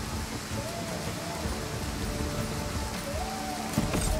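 Steady rain hiss from a battle in the strategy game Total War: Pharaoh, an even wash of falling drops with faint tonal game sounds drifting underneath throughout.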